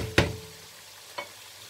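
Chicken jalfrezi masala frying in a pan, two distinct stirring scrapes about a second apart over a faint, low sizzle, with no talk.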